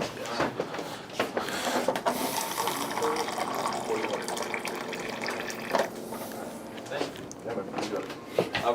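Water running and gushing from a tap into a container in a jewelry shop, a steady splashing flow that lasts throughout at moderate loudness, with people talking faintly underneath.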